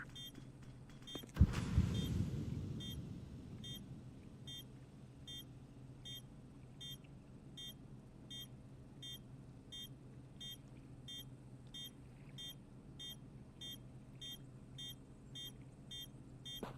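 A planted bomb in Counter-Strike 2 beeping at a steady pace: short high electronic chirps repeat evenly throughout, quiet and distant-sounding, with a brief louder thump and rumble near the start.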